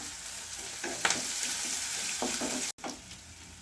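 Finely chopped green chilies fry in hot oil for rava idli, giving a steady close sizzle with a few brief stirring scrapes and clinks and no talking.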